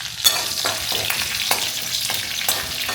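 Chili frying in hot oil in a pan for homemade fried rice, a steady loud sizzle with bright crackling bursts recurring about every half second, as if stirred, with no voices.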